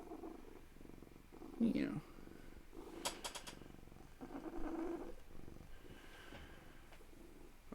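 A pet cat purring loudly, a steady low rumble running through most of the moment, with a person talking softly over it and a brief higher chirp partway through.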